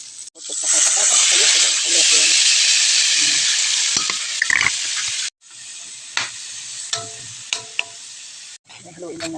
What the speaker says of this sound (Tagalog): Haluin lang natin ito, guys.